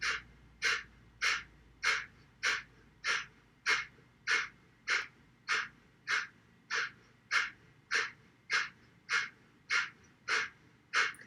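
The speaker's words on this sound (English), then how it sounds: "keep pumping in the diaphragm. You don't really have to think about this as you're doing it. Just force the breath out of your nose." Breath of Fire yoga breathing, with rapid forced exhales through the nose: about twenty sharp, evenly spaced puffs, close and clear, in a steady rhythm with no talking.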